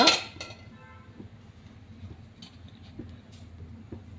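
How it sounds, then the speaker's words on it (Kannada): A frying pan set down onto a gas stove gives a sharp metallic clank, followed by faint light clinks and a low background hum. "ಬಾಣಲೆ ಇಡುವ"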